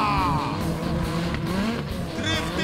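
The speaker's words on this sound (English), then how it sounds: "Kini tiba masanya untuk persembahan yang bersama-sama. Drifting bersama-sama" Several cars drifting together at a Toyo Drift competition produce a loud, continuous blend of revving engines and tire squeal, heard from trackside with a sustained roar throughout.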